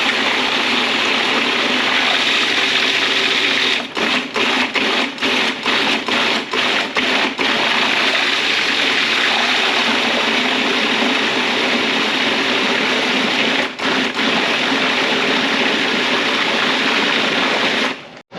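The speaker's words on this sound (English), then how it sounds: "we're just going to slowly pulse until we get the consistency that we want" A blender pulses hot cooked pumpkin into puree, giving a loud, continuous whirring roar broken by a quick series of brief stops and restarts, then one later pause before it cuts off at the end.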